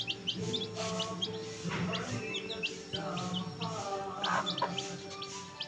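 Chicks and adult chickens call close by in a steady stream of high peeping chirps and clucks, layered and overlapping without pause, with no talk.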